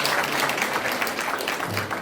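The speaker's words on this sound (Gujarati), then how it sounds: "આપણે જોરદાર તાળીઓનો ગડગડાટ." Crowd applauding at a government ceremony in Nadiad distributing nutrition kits under a TB-free India campaign, dense sustained clapping from many hands throughout.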